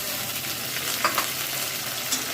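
Onions sizzle steadily in hot oil with cumin and potatoes in a pan for a Bengali fish fritter curry, broad frying hiss with a few soft stirring scrapes and no voices.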